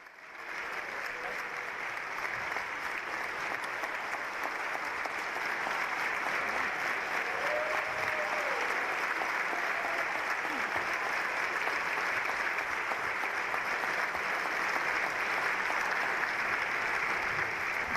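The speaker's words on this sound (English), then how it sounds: "let's give a round of applause on the House Representatives to our Lieutenant Governor, Susan Beisowitz" Sustained applause in a state House chamber welcoming the lieutenant governor, a broad steady wash of clapping from a large crowd that builds and holds, with a voice briefly audible underneath.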